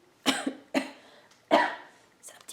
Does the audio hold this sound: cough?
yes